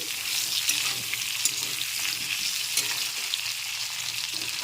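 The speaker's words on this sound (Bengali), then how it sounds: "তো এখন সবজিগুলোকে একটু ভালো করে ভেজে নিতে হবে।" Chopped vegetables sizzle steadily in a hot pan for spinach and prawn ghanto, broad frying hiss broken by soft scraping stirs; close, moderately loud and continuous, with no voices.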